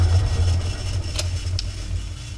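An Audi S4 hub with an AP Racing CP9660 touring car brake disc spun up in a workshop, a steady low mechanical hum with a couple of faint ticks, close and continuous.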